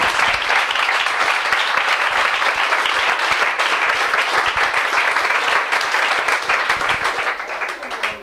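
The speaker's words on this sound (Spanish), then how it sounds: "Un aplauso para Fernando, por favor." A dense, steady ovation from an audience welcoming a speaker at a talk about extraterrestrials, many hands clapping loudly and evenly throughout before tapering slightly at the end.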